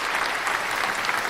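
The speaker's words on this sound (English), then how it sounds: "give her a clap" A studio audience claps steadily for a guest being welcomed on a chat show, a dense, even patter of hands throughout with no voices over it.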